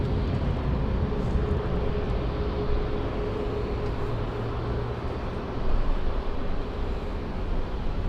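A jet airliner takes off from a runway at LAX airport, its engines producing a steady, broad roar that holds at a constant level throughout with no voices over it.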